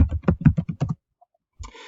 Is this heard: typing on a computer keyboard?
yes